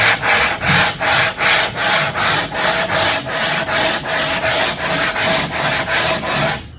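Steady rhythmic rasping of sanding on the wooden transom of a 1973 Aquasport 222 boat, repeated back-and-forth strokes at a regular pace, loud and close with no talking.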